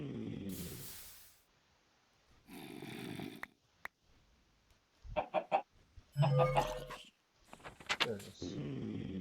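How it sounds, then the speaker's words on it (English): Minecraft chicken clucking, a few short, close, scratchy clucks popping up between bursts of snoring-like noise and other game sounds, with a voice talking briefly. "I'll spawn a chicken."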